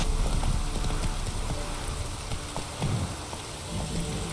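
Horse hooves clip-clop steadily under heavy rain pattering on the ground, the rain dominating throughout.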